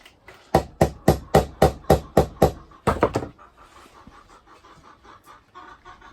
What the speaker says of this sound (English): you can hear Trudy the turkey in the background